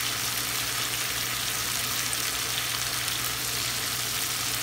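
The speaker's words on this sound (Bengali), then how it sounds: "এখন আমি নাড়াচাড়া করবো" Cubed onions stir-fry with beef chili in hot oil, producing a loud, dense, steady sizzle that stays close and constant throughout.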